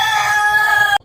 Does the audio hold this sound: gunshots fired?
no